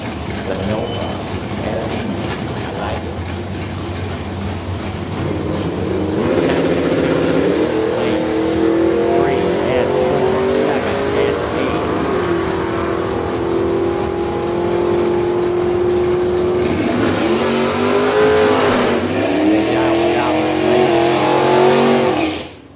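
Drag racing cars launching down the strip at a drag event, a loud, sustained engine roar rising in pitch as they accelerate away, with an announcer talking over it.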